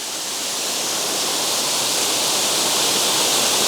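Yorkshire waterfall roaring as a steady, loud, continuous rush of falling water, close by and unbroken, with no voices.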